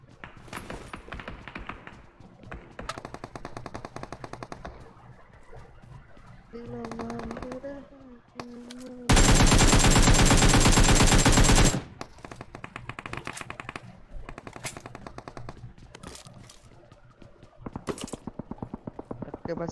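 Automatic gunfire in GTA 5 comes in rapid bursts, with one long, loud, dense volley in the middle, while people talk over and between the shots.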